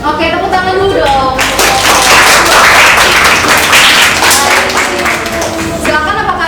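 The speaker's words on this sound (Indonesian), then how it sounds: "Oke, tepuk tangan dulu dong." Classmates clap after a group's presentation in a university teacher-training class, a loud burst of applause rising in the middle and thinning out, with voices talking over it at the start and end.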